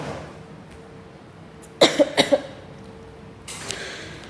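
A short burst of four quick coughs rises out of a quiet room, close and fairly loud, followed by faint background shuffling.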